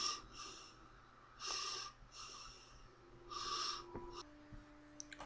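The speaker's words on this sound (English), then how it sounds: "In the trailer, we hear him breathing heavily." Heavy, rasping breathing of a villain in a film trailer, several slow drawn-out breaths in and out over a low hum, fairly quiet, with a few faint clicks and tones near the end.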